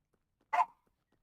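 Small dog named Kodak giving a single sharp bark, close and fairly quiet, alone against near silence.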